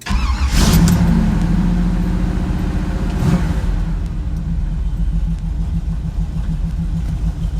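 A 1955 Chevy truck engine cranks briefly, catches and settles into a steady, loud, rumbling idle close by, with a quick rev around the start and no talk.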